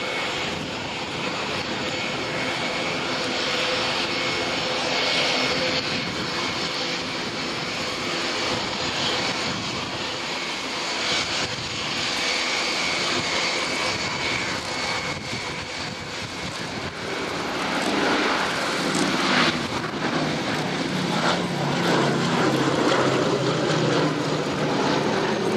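A Boeing B-17G Flying Fortress, the only one of its type flying in Europe, drones overhead at an air display with a steady, loud multi-engine propeller roar that swells slightly toward the end.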